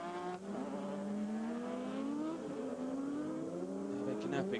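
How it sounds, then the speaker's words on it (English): A Trophée Andros ice race car engine at Alpe d'Huez, driven by Alain Prost, drones at high pitch, revs rising and dipping slightly, loud and close, like an onboard recording. "Well, the engine may not sound all that on song for Alain Prost, but I think it's going to be enough to get"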